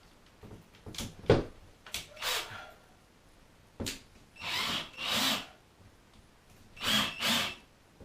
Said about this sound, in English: I'll go ahead and drill the hole.